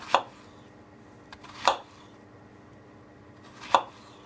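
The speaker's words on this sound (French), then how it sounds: "Donc maintenant on coupe la banane fruit en rondelles, pas trop fine, doit garder une certaine épaisseur" A knife chops through a banana into fairly thick rounds on a board, giving three crisp, separate thuds spaced a second or two apart over a quiet background.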